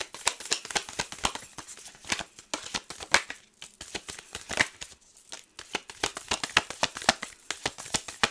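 Message cards for a card reading are shuffled close up, giving a rapid, rhythmic run of crisp riffling snaps that pause briefly midway and then resume.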